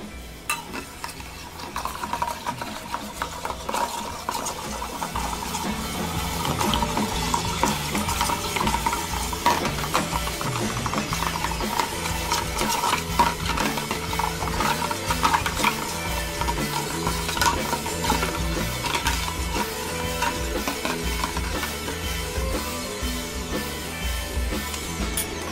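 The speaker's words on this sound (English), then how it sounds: "and stir this up." A grape cocktail stirred with ice in a mixing glass: a steady, continuous rattle and clink of cubes against the glass, close and fairly loud, running without pause and with no talking.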